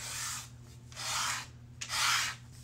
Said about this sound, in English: this makes a pretty big mess when you dry sand versus wet sand